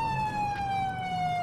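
A police car siren in the video game GTA IV, playing an Alabama State Trooper patrol in multiplayer, wails as a steady, slowly falling electronic tone, loud and continuous over faint engine rumble.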